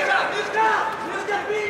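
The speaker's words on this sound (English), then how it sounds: "Crowd behind me have come alive big time" Spectators at a 65kg Muay Thai bout cheering and shouting in bursts, a crowd roar that pulses up and down over under two seconds, with individual voices calling out within it.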